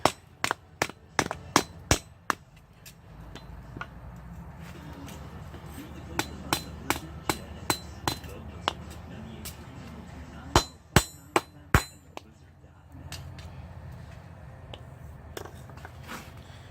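Sharp, distinct strikes of a soft face hammer as a metal strip is bent into a mason jar mug handle, irregular bursts of knocks separated by pauses, with a low hum beneath.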